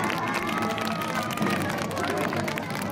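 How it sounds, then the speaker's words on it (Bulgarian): An audience at a first-birthday party claps and cheers for a volunteer named Vasko, a steady, dense wash of applause with some crowd babble throughout. "Аплодисменти за Васко!"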